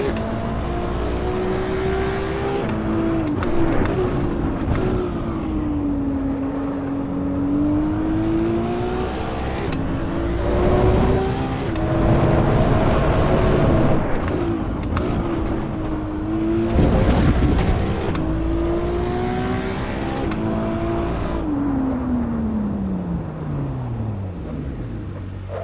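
A road car races in Assetto Corsa EVO. The engine revs up and down through the gears, its pitch repeatedly climbing and falling, loud and close throughout.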